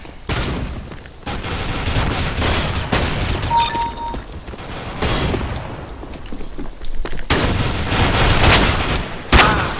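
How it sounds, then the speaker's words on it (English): Repeated gunfire from a round of Counter-Strike: Global Offensive, with several loud shotgun-style bursts scattered through the stretch over a constant background of game noise. "Oh, shotguns are like really annoying."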